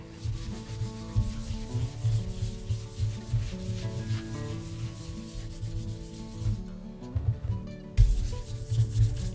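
Waxed Horween shell cordovan leather is polished by hand, giving a close, continuous rhythmic rubbing with a short pause partway through and no voices.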